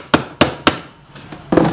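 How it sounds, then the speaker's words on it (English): A hammer strikes down the protruding points of a metal garden staple in three sharp, close taps, followed after a pause by fainter knocks and a final louder clatter. "just take your hammer and kind of hammer down the points"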